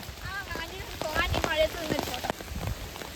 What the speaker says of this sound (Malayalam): കോടനാട് നല്ല കാറ്റും മഴയാ